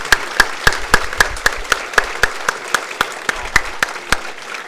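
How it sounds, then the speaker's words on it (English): An audience claps together in a round of applause at an awards event, the clapping loud and close, with regular sharp beats throughout and no talk over it. "Round of applause to you guys."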